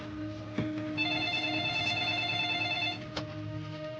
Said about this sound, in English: The phone rings in my office